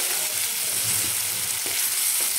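Masoor dal with spices fries in a pan as a dense, steady sizzle, close and even, with a few faint stirring touches.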